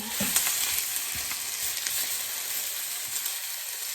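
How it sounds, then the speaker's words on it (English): Fresh spinach sizzling and wilting in a hot pan, a steady crackling fry with faint stirring taps throughout, close and moderately loud with no voices. "Now the spinach, I'm going to cook it for about a minute."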